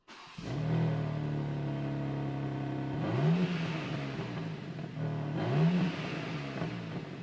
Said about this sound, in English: I would be so disappointed if I bought a BMW M3 brand new and it sounded like this.